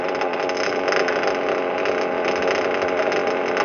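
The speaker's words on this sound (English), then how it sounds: "Are you going to see how long it idles?" A small O.S. model glow plug engine, running slightly rich, idles steadily with a loud, buzzy, fluttering drone and slight rhythmic unevenness throughout.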